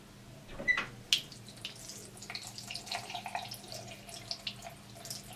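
Cold tap water runs steadily over makeup brushes being rinsed under a faucet, a continuous close splashing with small bursts as the bristles are worked, no voices.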